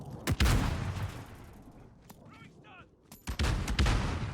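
Gunfire in Call of Duty Warzone: two loud, sharp bursts of shots near the start and end, with a quieter stretch between holding a single crack and faint chirping effects.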